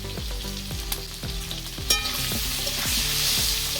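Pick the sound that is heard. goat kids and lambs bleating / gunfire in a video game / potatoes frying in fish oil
potatoes frying in fish oil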